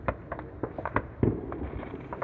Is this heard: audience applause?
no